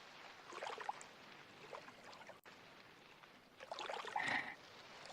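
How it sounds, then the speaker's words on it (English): Gentle water lapping at shorelines as ambient game sound in Factorio, a soft continuous watery wash with brighter splashy swells toward the end, alone without speech. "Water lapping at the shores."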